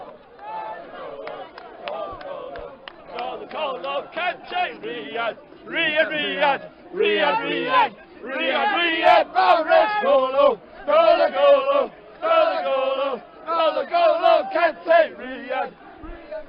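Leicester City football fans celebrate winning the Premier League title with loud, rhythmic group chanting and singing in bursts, close by amid a packed evening street crowd, with shouts rising and falling throughout.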